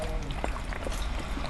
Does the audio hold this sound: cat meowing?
no